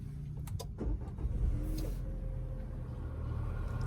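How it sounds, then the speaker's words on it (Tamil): An MG Astor's engine turns over from inside the cabin, a short muffled starter whir and catch near one and a half seconds settling into a soft, steady idle hum, quiet and close with no talking. "லைட்டாக ஒரு இக்னிஷன் சவுண்ட் வந்தது, அவ்வளோதான்."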